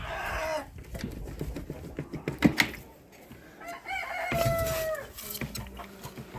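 Several chickens squawk and cluck agitatedly at close range, with sharp cries and rising calls breaking out in bursts.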